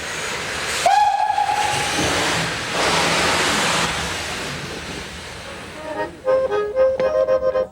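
A steam train on Switzerland's Albula Line whistles, then a long rushing hiss of steam fills the air, followed by rhythmic chuffing and clanking of pounding pistons as it moves slowly.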